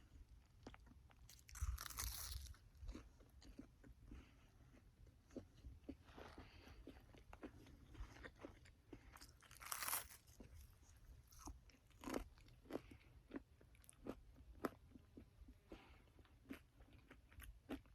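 Crunchy bites and chewing of a grilled cheese tortilla filled with cheese-flavored pork rinds, eaten outdoors among Sedona's red rocks, with repeated close crisp crunches and softer chewing between them.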